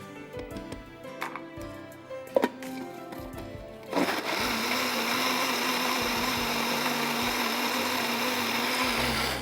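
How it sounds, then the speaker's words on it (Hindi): A mixer grinder grinding onion, ginger, garlic, cumin and coriander into a paste starts abruptly after a few light kitchen clatters, then runs as a steady, loud whirring drone to the end. "एक बार फिर इसको पीस लेते हैं ताकि ये जो पेस्ट हो वो बिल्कुल फाइन हो"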